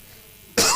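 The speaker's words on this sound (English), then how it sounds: "I go clear my throat well" A man gives one short, sharp throat clearing near the end, loud and close after a moment of quiet.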